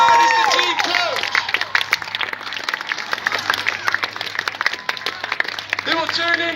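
A crowd in a grandstand at an agricultural show air display claps and cheers in a busy patter, while an announcer's voice carries over the top through a public address system.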